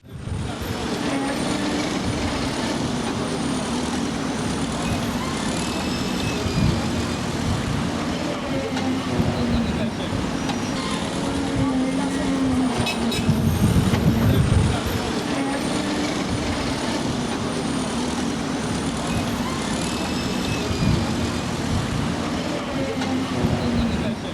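A dump truck and a backhoe loader from a garbage collection company clear refuse dumps in Libreville, making a steady, loud rumble of engines throughout with heavy mechanical clanks and a brief louder surge midway.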